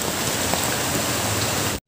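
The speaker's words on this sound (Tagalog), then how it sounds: "Lakas ang ulan." Heavy rain pours steadily at close range, a dense continuous hiss and patter with no voices, ending abruptly in silence just before the close, as a food delivery rider on a Honda Click 125 gets soaked.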